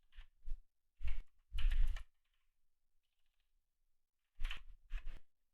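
A computer keyboard being typed on in short bursts of clicking keystrokes, separated by pauses of near silence, close and fairly quiet.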